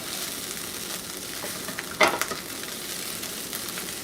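Corned beef hash frying in a pan after being flipped, with a steady low sizzle, a brief louder crackling scrape near the middle, and then the quiet frying continuing.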